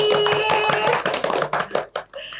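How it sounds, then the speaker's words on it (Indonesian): An audience applauds at a lively indoor gathering about archery with a dense burst of clapping over a tonal background, breaking into scattered, fading claps toward the end. "tepuk tangan sekali lagi"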